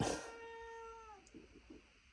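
A cat gives a single clear, drawn-out meow with a tonal, falling pitch, close and fairly quiet, followed by a few soft rustles in an indoor hobby room.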